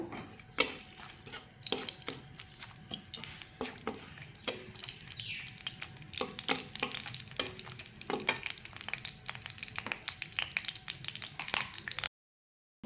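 Whole bay leaf and two dried red chillies frying in hot oil, a steady soft sizzle broken by frequent sharp clicks and taps of stirring against the pan, continuing close and moderately loud with no talk.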